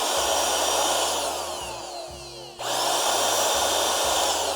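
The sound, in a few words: Parkside PALP 20-Li B2 cordless air pump blowing air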